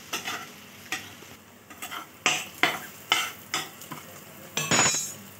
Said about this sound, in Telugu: యాడ్ చేసుకొని బాగా మిక్స్ చేసుకుందాం.